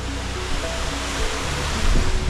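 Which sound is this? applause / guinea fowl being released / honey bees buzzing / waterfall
waterfall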